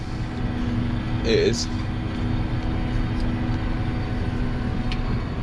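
Farm tractor engine revving while spraying Roundup, a steady droning rumble with a constant low hum throughout, accompanied by a brief clatter and a short spoken word early on.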